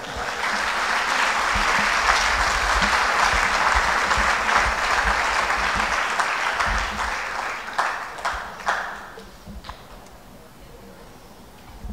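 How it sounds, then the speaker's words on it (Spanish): Church congregation applauding the Lord during a sermon, a sustained wash of many hands clapping at steady volume before trailing off into a few scattered claps. "Dale un aplauso al Señor."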